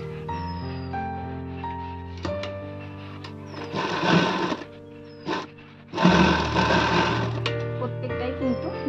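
A sewing machine stitches blouse fabric with a sustained, loud mechanical hum that swells into two denser bursts of running stitches, with harmonic tones running throughout.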